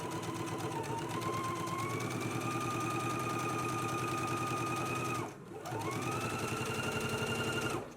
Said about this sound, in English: So let's go ahead and do our edge stitch and our top stitch now along the center front.